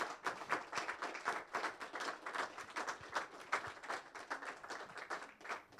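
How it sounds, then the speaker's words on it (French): Applause from the audience at a municipal council meeting in Allonnes town hall: dense, steady clapping that runs for about six seconds at a fairly low level, with no talk over it. "Et on peut encore applaudir Dadi"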